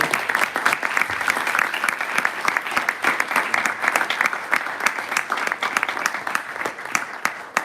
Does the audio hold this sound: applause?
yes